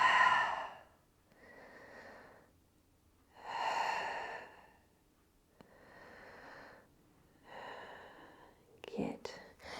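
Slow, deep breaths during a Pilates stretch for scoliosis, close and soft, with long airy inhales and exhales rising and falling in an even rhythm over near silence.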